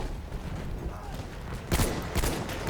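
Rapid bursts of gunfire in a first-person shooter video game, loud crackling volleys that come in quick clusters over a steady game background, with players chatting.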